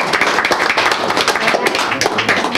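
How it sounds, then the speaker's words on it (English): An audience at a public school board meeting applauding, a steady close patter of many hands clapping throughout a couple of seconds. "I think we should clap again."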